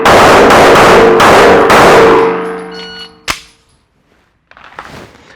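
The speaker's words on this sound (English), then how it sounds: "So now it is draw and fire 5 in 5 seconds." A pistol on a shooting range is drawn and fired rapidly in a timed five-shot string, with several loud, sharp reports in quick succession followed by ringing decay, one more isolated crack, then near quiet.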